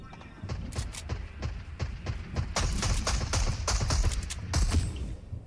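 Fortnite squad match gunfire, bursts of rapid shots and thumping impacts in quick clusters, fairly loud, with players talking over the action.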